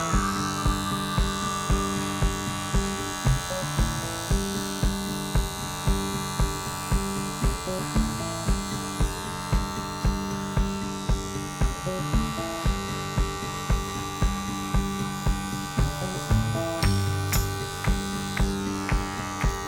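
Electric hair clippers buzz steadily while cutting a man's hair close, with the lever down, their loud hum pulsing in a regular rhythm of short strokes throughout.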